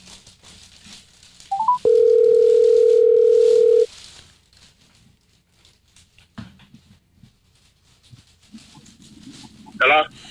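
A steady telephone dial tone sounds loud and alone for about two seconds, preceded by a short beep, with faint room noise and a brief burst of keypad-like tones near the end.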